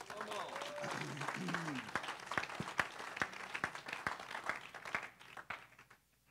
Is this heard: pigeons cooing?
no